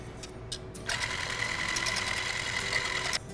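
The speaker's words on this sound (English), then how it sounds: "we're gonna whisk it to about a medium peak or so" An electric mixer whisks heavy whipping cream toward medium peaks, a steady motorized whir starting after a few faint clicks and running loud and even for about two seconds before cutting off.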